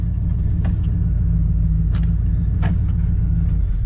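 A car engine rumbles steadily and loudly from inside the cabin while driving with brakes that sink to the floor from a rusty line, with a few faint clunks and rattles over the drone.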